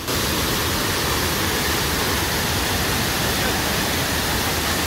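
Rushing water falling from above at a high waterfall in India, a steady, dense roar close by and unbroken throughout.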